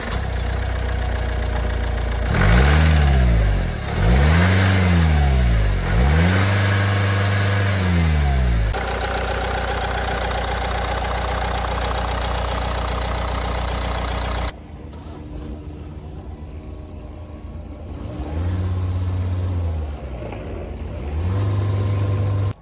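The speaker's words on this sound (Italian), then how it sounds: "adesso ascoltiamo l'accensione" A Nissan X-Trail 1.6 dCi diesel of 130 horsepower cranks and fires up several times, each start a short loud surge that settles into a steady, close diesel idle with a knocking rumble.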